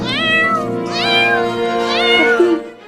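A cartoon cat gives three drawn-out, falling meows in close succession, loud and clear with no talk over them.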